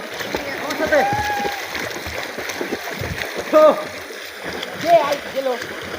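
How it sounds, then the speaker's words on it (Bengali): People swimming in a river make intermittent splashes and sloshing water close by, under a continuous flow of excited voices shouting and talking throughout. "সাঁতার দিব এখন দেখো এই সাঁতার সাবধান সাঁতার দাও"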